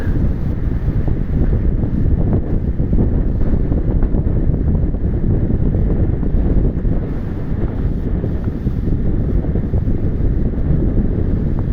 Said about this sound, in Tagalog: malakas ang hangin tapos ang lalaki ng alon